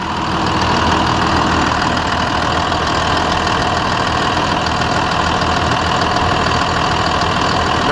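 A Cummins 5.9 24-valve diesel idles steadily in a truck with a freshly replaced harmonic balancer and a slightly wobbling fan, giving a loud, continuous, even rumble with a faint knocking texture throughout.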